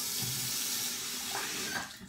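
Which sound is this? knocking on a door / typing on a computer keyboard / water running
water running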